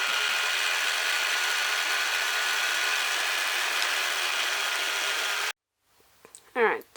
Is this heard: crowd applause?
no